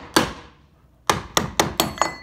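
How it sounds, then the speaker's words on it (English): A hammer taps a wooden door jamb: one sharp knock, a pause, then five quick close knocks in a row, loud and alone. "So maybe hit it a few times with your hammer."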